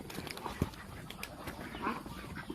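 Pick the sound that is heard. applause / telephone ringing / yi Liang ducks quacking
yi Liang ducks quacking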